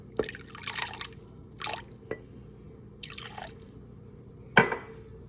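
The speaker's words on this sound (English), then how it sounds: "now I'm just gonna add 1 cup of water" Water is poured from a cup into a lamb biryani rice mixture in a pot, heard as several short splashing, trickling bursts with gaps between them and a sharper splash near the end.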